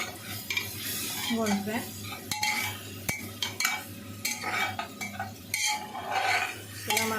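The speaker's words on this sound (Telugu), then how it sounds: "దీన్ని బాగా కలుపుకోవాలి, అడుగు అంటకుండా ఆయిల్లో బాగా ఫ్రై చేసుకోవాలి ఈ అల్లం వెల్లుల్లి పేస్ట్ని." Ginger garlic paste fries in oil for mutton leg curry, with continuous sizzling and frequent scraping and clinking of a spoon against the pan, while a person talks briefly over it.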